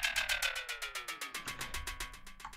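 Snare drum sample through a delay and a resonator tuned to the key, rapid repeating hits with ringing tonal tails, a descending pitched sweep in the first second, fairly quiet and alone.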